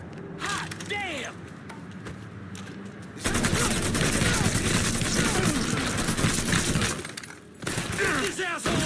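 Gunfire rattles in Mafia 3: Definitive Edition on PC, with dense bursts of shots and mechanical clatter over game ambience, and voices heard intermittently.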